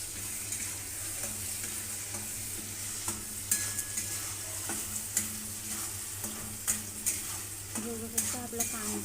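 Tomato paste frying with ginger garlic paste, a low steady sizzle with occasional spoon taps and stirring knocks against the pan, with no talking.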